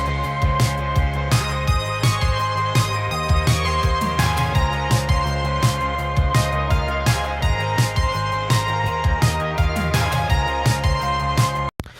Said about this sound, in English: I think the song could shine really with just like the guitars and the bass and the drums.